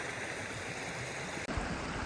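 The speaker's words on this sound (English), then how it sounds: "I've reached the path to go to the other side, and it seems like a watery stream." A watery stream flows steadily beside a hiking path in Matera, Italy, giving a close, continuous rushing wash with no voices, broken only by one brief dropout.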